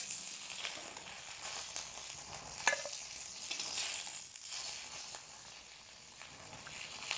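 Fish fries in oil in a kadai, giving a steady, quiet hiss and crackle of sizzling that carries on evenly throughout, with an occasional faint clink.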